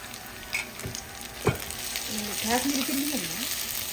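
Onions sauté in a pan for nasi goreng with a steady, close sizzle and a couple of sharp utensil knocks, while a voice briefly speaks over the frying.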